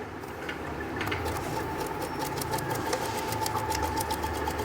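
Sewing machine running steadily as it stitches piping cord onto fabric, a continuous close whirring hum for the whole stretch, alone with no talk.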